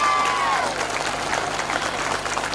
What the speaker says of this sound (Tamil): அதிகமான கைத்தட்டல்களை இங்கே நாம் பதிவு செய்ய வேண்டியுள்ளது.